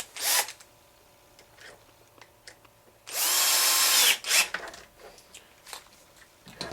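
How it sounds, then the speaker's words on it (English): A screw being driven into the wing mount of an HPI Baja SS RC car, heard as a short burst of power-driver whirring, with a few small clicks and handling noises before and after. "go ahead and grab one of the screws and put it through the forward hole, and we're going to go ahead and screw that one in."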